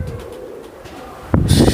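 A racing pigeon gives a brief, soft, low coo nearby, followed by a sudden louder rustling burst near the end, all within a couple of seconds.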